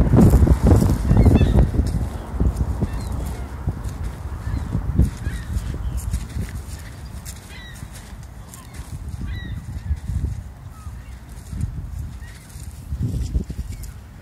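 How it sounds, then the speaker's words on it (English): Geese honk repeatedly in the distance amid rustling, wind-like outdoor noise, with louder low thumps near the start. "All you hear is these birds yelling and screaming."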